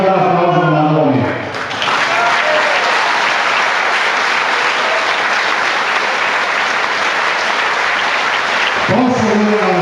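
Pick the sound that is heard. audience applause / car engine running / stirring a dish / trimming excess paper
audience applause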